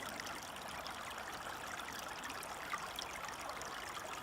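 A bucket of sand and water is emptied onto a gold sluice at a French gold-panning site, giving a steady, close splashing pour that stays even throughout with no talk.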